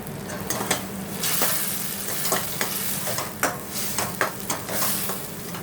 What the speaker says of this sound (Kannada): ಸ್ವಲ್ಪ ಟೊಮೊಟೊ ಫ್ರೈ ಆಗಲಿ